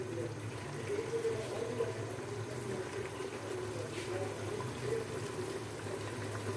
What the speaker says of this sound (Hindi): अब हम इसमें शामिल करेंगे इतना 2 गिलास पानी